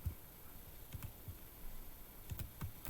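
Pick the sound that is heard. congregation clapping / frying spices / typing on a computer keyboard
typing on a computer keyboard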